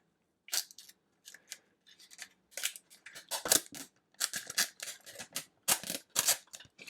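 Packing tape pulled and torn off the roll to make handles while fitting a tempered glass screen protector on a Nintendo Switch: a string of sharp, crackly ripping bursts, close and fairly quiet, with short pauses between.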